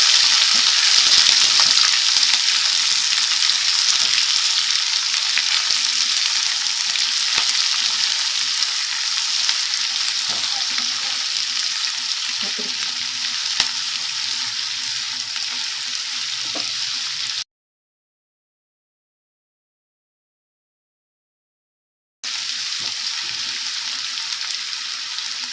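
Onions and curry leaves frying in a pan, a loud, steady, hissing sizzle that holds constant, cuts out completely for several seconds, then resumes just as strong.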